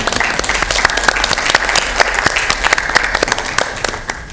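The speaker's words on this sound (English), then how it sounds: "Are the rounds of applause happening because I'm a basketball announcer?" A small group at a meeting breaks into applause after a motion passes, with close, distinct individual claps forming an uneven patter that continues throughout.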